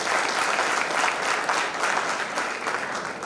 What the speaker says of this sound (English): So please have a round of applause for the center.